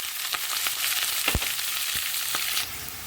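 Onions and green chillies fry in hot oil in a kadai, giving a close, bright sizzle broken by a few sharp stirring knocks against the pan.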